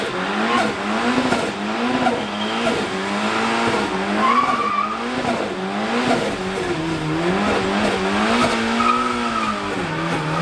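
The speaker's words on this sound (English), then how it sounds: "although it will do a decent skid, it only spins one wheel" A Gemini car doing a burnout that spins only one wheel: a loud, continuous engine roar with wavering revs and tire squeal running steadily throughout, close and alone.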